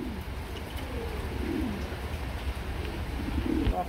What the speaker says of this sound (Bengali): বিশাল সাইজের ব্ল্যাক কালার, কালো কুচকুচে, হ্যাঁ, কালো কবুতর